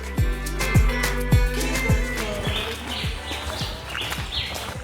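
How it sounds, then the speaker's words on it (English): Birds chirp and call at a Caribbean cruise port stop, their bright tweets scattered over a steady rhythmic clopping or thumping pattern and background activity. "I love all the birds. They make me so happy just hearing them."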